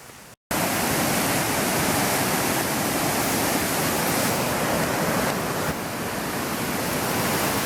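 Fast-flowing river water on Oahu or Maui under a flash flood warning, a loud, steady broadband rush that holds almost unbroken after a brief quiet start, with no voices.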